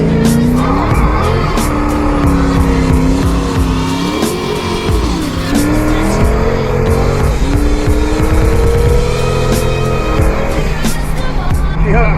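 A loud Chevrolet Camaro skids with sustained, wavering tire squeal over a roaring engine that stays constant and near for the whole stretch.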